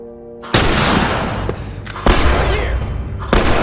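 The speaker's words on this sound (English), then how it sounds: "Hunting rifle right to the neck" Three loud, sharp hunting rifle shots from The Last of Us ring out a second or so apart. Each crack leaves a long, booming, reverberant tail.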